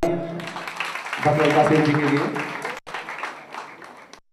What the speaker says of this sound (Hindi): तो एक बार मैं चाहूंगा सभी जोरदार तालियां